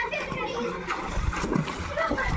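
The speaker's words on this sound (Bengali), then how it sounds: "এই সুইমিং পুল এখানে স্নান করতে এসছে সকলে 100 টাকা দিয়ে।" People splash in a water park swimming pool, with nearby splatters and sloshing water under the chatter of children and other voices.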